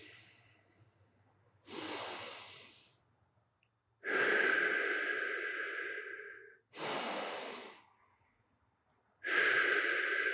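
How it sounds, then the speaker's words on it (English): Deep, slow breathing during a hip and hamstring mobility stretch for jiu-jitsu guard retention: four long, close breaths alternating inhale and exhale, each lasting over a second, separated by quiet pauses. "Give me a couple deep breaths here."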